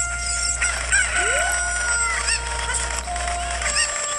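Chickens in the video game Zelda: Ocarina of Time, with repeated clucks and a crowing call over steady game music.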